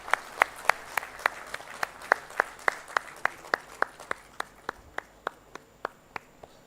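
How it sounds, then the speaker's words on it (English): Regular, evenly spaced claps at a launch event for a textile expo in Bhubaneswar, sharp and fairly close, keeping a steady rhythm for several seconds over a quiet background. "I see a lot of applause from our dignitaries on stage."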